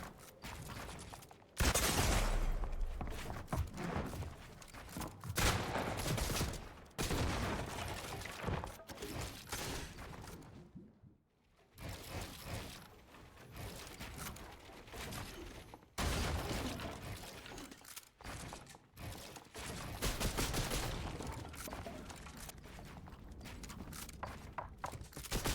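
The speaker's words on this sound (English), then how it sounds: "Now I'm getting shot." Gunfire in a fast-paced shooter video game, bursts of loud shots and impacts coming in dense clusters, with a brief lull partway through.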